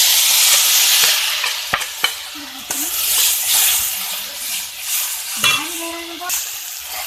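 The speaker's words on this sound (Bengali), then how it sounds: "এখন মশলাগুলো খুব ভালোভাবে কষিয়ে নিচ্ছি" Onion, garlic, dried chilli paste, salt and turmeric frying together for a Bengali spinach dish, a loud close sizzle with spoon scrapes and a few clinks against the pan as the paste is stirred.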